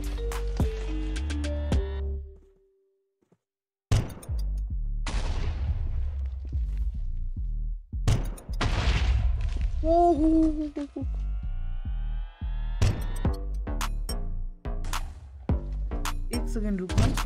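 A grenade launcher in Minecraft fires and explodes repeatedly: heavy booming blasts with short silences between them, a brief pause early on, then a steady series of loud detonations and clattering shots.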